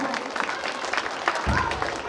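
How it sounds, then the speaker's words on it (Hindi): Sustained audience applause for students receiving awards at a school ceremony, a steady wash of many hands clapping with a brief lower thump partway through. "जोरदार तालियां बजनी चाहिए।"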